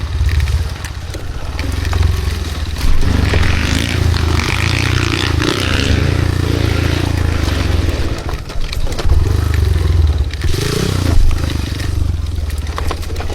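A motorcycle engine runs steadily while riding along a seaside route in Marihatag, a loud low drone with wind rumble and rattling, continuous throughout.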